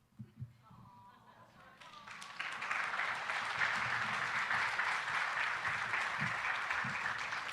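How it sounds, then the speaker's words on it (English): Applause at an awards ceremony starts after a few seconds, swelling into steady, sustained clapping from a crowd that continues to the end. "Another big round of applause for Captain J. Glover, Victor J. Glover, Jr."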